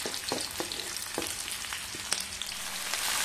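Garlic and red onion sautéing in a pan: a steady close sizzle and hiss with occasional sharp pops and spatters, alone without talk.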